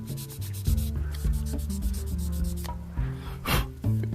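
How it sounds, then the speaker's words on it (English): A Gundam model kit is rubbed with a tri-grit sanding stick in steady, close scraping strokes over a tonal background. "that's where I like to use this tri-grit stick, because I can come along, I can start getting these scratches out."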